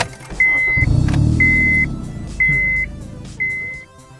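An eighth-generation Honda Civic with the R engine cranks and fires up, settling into a steady idle, while a chime beeps repeatedly at regular intervals; close and loud, with no talking.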